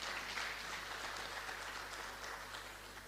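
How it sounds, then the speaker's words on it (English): Faint, distant audience applause at a hairdressing certificate launch event at a TVET college, a soft continuous patter of clapping over a low hum. "Let's give her a round of applause."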